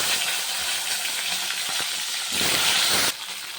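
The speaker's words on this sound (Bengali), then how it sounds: "ফুলকপি ভাজা হয়ে গেছে" Cauliflower pieces fry in a pan of oil with a steady close sizzle, swelling into a louder hissing burst for about a second before settling back down.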